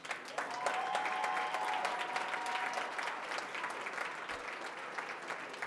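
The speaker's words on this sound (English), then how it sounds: "one more round of applause" A board meeting audience applauding in a hall, a dense steady patter of many hands clapping for several seconds, moderately distant, with a faint tone briefly sounding over it.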